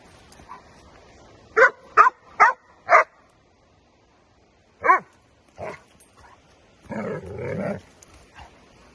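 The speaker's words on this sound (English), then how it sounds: "the bigger dog growls" A bigger dog roughhousing with a smaller dog lets out a quick run of sharp, growly bursts, then a lone yip and a longer rough snarl, close and fairly loud, with quiet gaps between.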